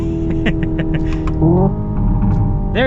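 A 2025 Hyundai Ioniq 5 N accelerates hard with its synthetic fake engine sound, loud and close, giving a rising whine with a stepped shift-like break partway through, under light talk.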